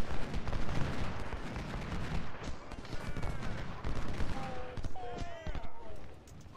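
Musket volleys crackle through a Civil War battle in Ultimate General: Civil War, with dense, rumbling gunfire and booms rolling on throughout while someone talks over the fighting.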